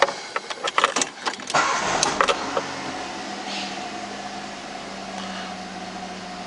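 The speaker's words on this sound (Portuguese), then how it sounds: "Deixa eu ligar o motor para o motor ajudar aqui." A 2007 Ford Ka 1.0 engine cranks with a few sharp clicks and bursts, then settles into a steady, moderately loud idle hum, with no voices.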